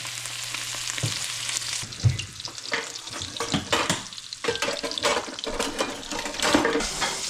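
Walleye fish and dough balls fry in hot oil with a steady crackling sizzle, broken by clattering stirs and a brief splash of running water, close by with no talk.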